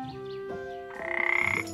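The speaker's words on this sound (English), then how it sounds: "A frog!" A frog croaks close by, giving a few short calls and then a louder rapid pulsing trill, with no one talking.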